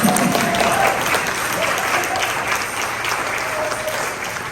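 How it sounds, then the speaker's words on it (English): A church worship congregation claps together, a dense, steady wash of applause that holds evenly throughout before easing slightly at the end. "Let's all clap together since we started."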